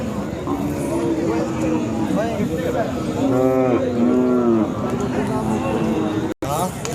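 A Khillar bull moos at a busy cattle market in Sangola, one drawn-out low call in the middle, over a constant murmur of crowd noise and livestock.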